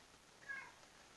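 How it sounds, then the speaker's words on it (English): A single short, faint cat meow rises and falls in pitch over a quiet indoor background. "Her cat meowed"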